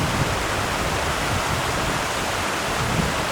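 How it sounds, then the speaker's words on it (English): Small mountain stream on a backpacking route from South Lake to North Lake, flowing steadily with an even, broadband rush of water that holds constant and close throughout, with no voices. "This is one of the many little streams we've had to cross so far."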